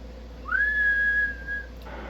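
A person whistles one clear, sustained steady tone into the hand microphone of a Yaesu FTdx3000 amateur radio transceiver, lasting about a second, close and fairly loud against a low background hum.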